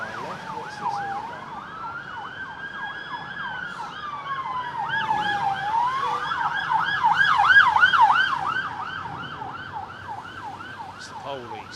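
Wailing police siren at London Heathrow Airport in wet weather, rising and falling in long sweeps then fast yelps, fairly near and steady, swelling louder toward the middle before easing off.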